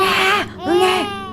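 A voice imitates a baby's cry, two drawn-out wailing "waah" sounds one after the other, loud and close with nothing behind them.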